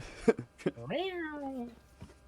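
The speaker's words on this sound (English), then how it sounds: "I can't get enough of this cat spray." A cartoonish cat meow from a spray in the video game Valorant rises and slowly falls in pitch, clear and close, preceded by two short chirpy blips and followed by a faint tail.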